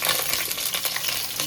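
Chicken frying in hot oil and ghee sizzles steadily and loudly while being stirred, with a continuous crackling hiss and faint scraping of the spoon.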